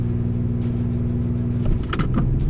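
Luxury three-row SUVs, a 2025 Lincoln Aviator, Genesis GV80 3.5T and Acura MDX Type S, launch off the line in a drag race, a loud steady engine rumble building with a rising rev and brief clatter near the end.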